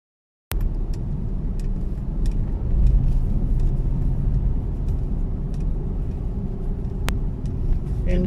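Highway traffic in Metro Manila during an enhanced community quarantine: a continuous broad rumble of passing cars and heavier vehicles, fairly close, with occasional small clicks and no talking.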